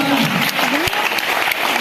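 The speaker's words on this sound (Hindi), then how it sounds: "जोरदार तालियां।" Audience applause for a leading team at a general knowledge quiz show, full and steady clapping with some voices mixed in beneath it.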